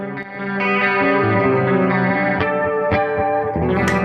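Electric guitar played through a JHS 3 Series chorus pedal, loud and close, with shimmering sustained chords and a few picked notes carrying a warbling modulated chorus effect, no voices.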